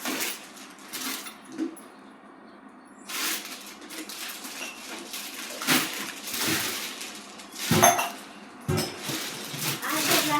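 Metal utensils from a thirty-piece set, along with a water jug, glasses and bowls, are picked up and set down, making intermittent clinks and clatters in close, irregular bursts, with a voice heard at times.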